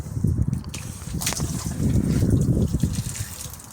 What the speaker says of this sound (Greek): Εδώ έχω βάλει μία ταπούλα, την οποία θα ανοίξω για να φύγει το νερό